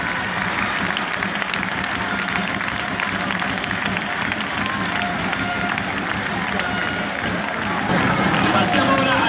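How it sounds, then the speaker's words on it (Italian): A basketball crowd in an arena applauds the players, continuous clapping mixed with crowd hubbub and some cheering, with a voice over the noise and a louder swell at the end. "L'applauso va a loro."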